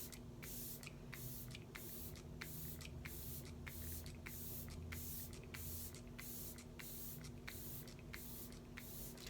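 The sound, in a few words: facial mist spray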